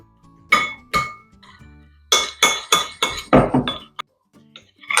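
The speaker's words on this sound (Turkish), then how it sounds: "Şöyle karıştıralım." A spoon knocks and clinks against a bowl while rice salad is stirred with olive oil, a string of sharp separate taps in quick clusters, close and clear with no talk over them.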